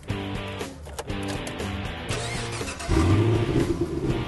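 A 2010 Chevrolet Camaro SS idles with a low, steady rumble, then its engine is revved and rises into a louder, throatier roar near the end, heard fairly close with no talking.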